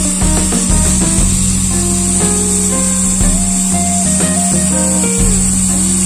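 An RR52000 aircraft fuel booster pump runs on a bench at about 11,200 rpm, giving a loud, constant high-pitched electric whine over a steady low hum, with faint bearing noise and no pauses.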